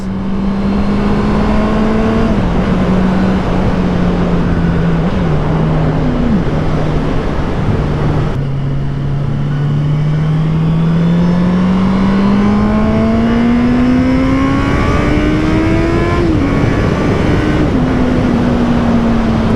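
A 650cc motorcycle engine on a solo road ride, a steady close hum under heavy wind rush, its pitch dipping and then climbing as the bike gathers speed, with no voices.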